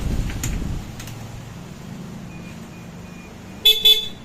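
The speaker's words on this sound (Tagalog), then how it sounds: "Bubusinahin natin ang malupit na Europa." Aftermarket Bosch Europa horn fitted to a Yamaha NMAX V3 scooter, giving two short, loud honks in quick succession near the end after a quiet stretch of idle background.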